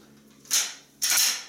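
A pistol being loaded with dummy rounds makes two sharp metallic clacks about half a second apart, close and fairly loud, each trailing off briefly with no talking.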